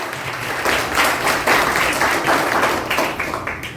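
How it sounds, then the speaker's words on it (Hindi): Church congregation applauding their pastor, a dense, steady wash of many hands clapping throughout, fairly loud and near, with no speech over it. "जोरदार तालियां हमारे पास्टर के लिए बजाएं।"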